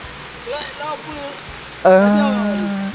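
Steady rain hisses through the whole stretch as a continuous soft wash, with a voice speaking over it near the end.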